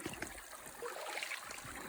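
Cold winter creek water trickles and gurgles steadily over rocks close by, a soft continuous flow with no voices.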